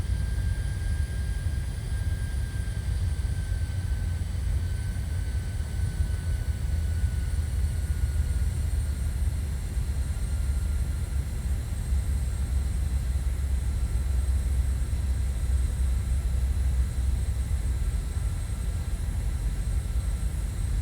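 Steady, loud engine drone of a P-8 patrol aircraft in Microsoft Flight Simulator 2020, with a low rumble and a faint high whine, continuous throughout with no voices.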